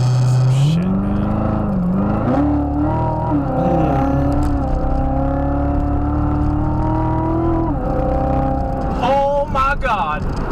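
A car driven hard with its engine revving loudly and continuously, pitch climbing and holding through sustained acceleration, with voices talking over it.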